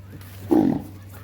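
A single short, deep bellow from a bull, loud and close, rising briefly out of a low steady hum.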